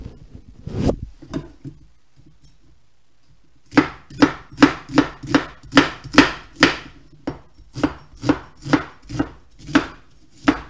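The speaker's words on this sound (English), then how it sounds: "Let's chop this up." Sweet Vidalia onions being chopped with a knife on a board for chicken soup: one early chop, then after a pause a steady run of about fifteen crisp, close knife strikes in even rhythm, with no talking.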